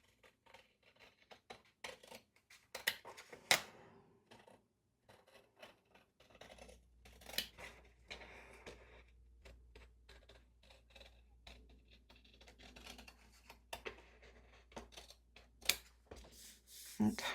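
Scissors fussy-cutting paper for a movie-themed creative journaling page, with a run of small snips and crisp paper rustles, quiet and close, spread unevenly over a faint low hum.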